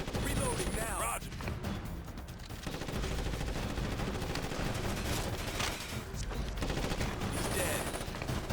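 Sustained automatic gunfire rattles through a firefight in Ghost Recon Advanced Warfighter 2, with dense bursts and sharp shots layered over battle noise while radio-style voices talk in the background.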